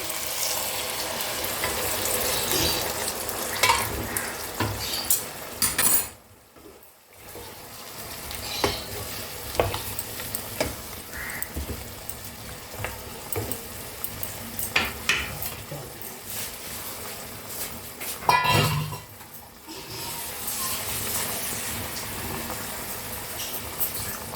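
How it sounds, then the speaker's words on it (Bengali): Chicken stock added to a sizzling pot for chicken soup, with loud frying hiss, stirring clatter and bubbling that briefly drops out twice before surging back. "এবার আমি এর মধ্যে চিকেন স্টকটা দিয়ে দিচ্ছি।"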